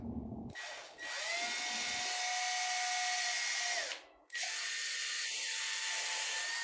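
Small electric drill boring into wood while fitting bamboo dowels, a loud steady whine running for about three seconds, a brief stop, then a second sustained burst, close and with no talk.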